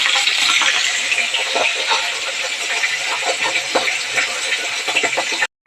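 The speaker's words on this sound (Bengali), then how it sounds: "কড়াতে তেল বসিয়ে দিয়েছি, মাছটা ফ্রাই হয়ে যাচ্ছে" Bhola fish frying in hot oil in a wok, a steady close crackling sizzle with scattered pops and spits throughout, no talk.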